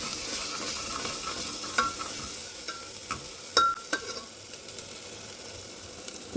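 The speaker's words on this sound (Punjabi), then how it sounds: "ਟਮਾਟਰ ਦਾ ਪੇਸਟ ਥੋੜਾ ਜਿਹਾ ਆਪਾਂ ਇਹਨੂੰ ਪਕਾਵਾਂਗੇ ਪਹਿਲਾਂ ਮਸਾਲਿਆਂ ਨੂੰ" Spices and tomato paste for a Punjabi black chana curry fry in hot oil with a steady close sizzle, while a spoon stirs and scrapes the pan in intermittent knocks.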